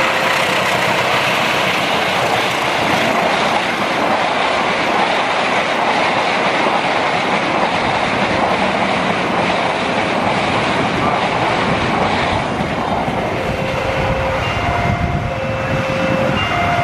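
A train rumbles steadily past on the rails at Srowot station in Indonesia, loud and close, with continuous wheel noise and clatter that eases slightly toward the end.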